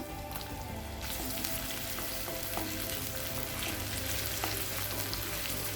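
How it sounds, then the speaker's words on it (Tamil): Green chilli, garlic and spring onion sautéing on high flame in a pan for veg fried rice and gobi manchurian, a dense steady sizzle with occasional scraping stirs, close and loud, no voices. "ஹை ஃப்ளேம்லேயே வச்சு லேசாக வதக்கினா போதுங்க"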